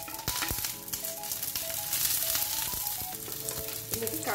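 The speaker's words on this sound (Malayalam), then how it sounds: "ഇതിപ്പം നന്നായിട്ട് ഫ്രൈ ചെയ്തിട്ടുണ്ട്." Spices, green chilli and curry leaves frying in hot oil for a rice-water rasam give a steady, close sizzle with soft stirring clinks throughout, no voices.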